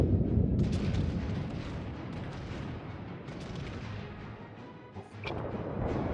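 Battleship guns fire in World of Warships, a deep rolling naval boom that fills the whole clip. A second sharp report comes near the end, and no voices are heard.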